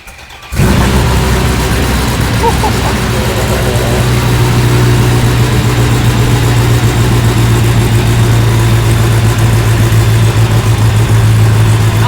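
A Dodge Viper sports car engine idles loudly and steadily after a brief quiet start, its deep rumble sustained and close throughout.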